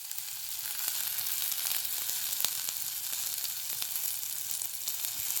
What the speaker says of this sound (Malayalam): ഉള്ളി ഒരു മീഡിയം ഒന്ന് വഴറ്റിയെടുക്കാം